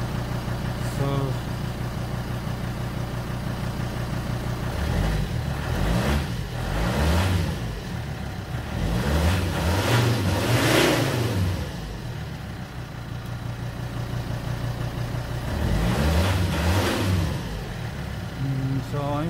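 Volvo XC90 D5 AWD diesel engine with a stuck swirl flap actuator, idling steadily then revving up sharply several times as the accelerator is snapped, heard close and continuous.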